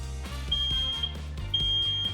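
Smoke alarm in a home kitchen, set off while rice fries golden in a pan, sounds two long piercing electronic beeps over a busy kitchen background.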